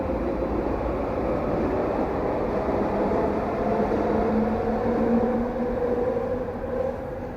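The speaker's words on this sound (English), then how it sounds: "That's 4 trains in literally 1 minute." A train rumbles past a station platform in a broad, continuous roar that holds steady and loud for several seconds with a faint tonal whine, no voices present.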